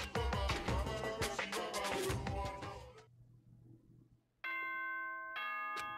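A two-tone ding-dong announcement chime from the video game Danganronpa 2 rings out clearly alone after a stretch of busy game music and a quiet pause.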